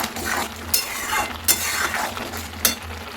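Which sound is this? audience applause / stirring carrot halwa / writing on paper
stirring carrot halwa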